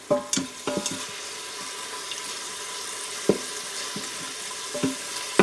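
Soft, steady sizzling of onions frying in an Instant Pot, with occasional sharp scrapes and clinks of a utensil against the bottom.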